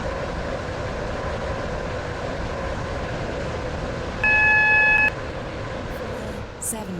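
A metro train in the Roblox game Stepford County Railway rolls in with a steady, moderately loud rumble, broken by a single sustained electronic beep near the end.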